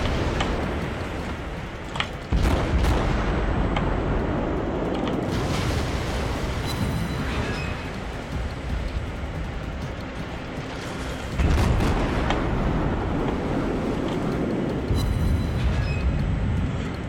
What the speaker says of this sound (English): No choice but to open up all of my guns on him